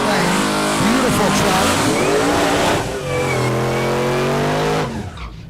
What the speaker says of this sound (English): Sounds like a Whipple or a Maggie in the left lane.